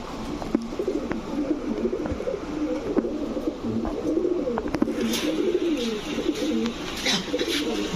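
Red khaki pigeons, a cock and a hen, coo steadily in low repeated rolling phrases close by, with a faint human voice in the background.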